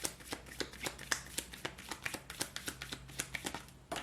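A deck of Everyday Tarot cards is shuffled in quick rhythmic riffles, a rapid series of close, crisp flicks and slaps with a faint voice barely present beneath.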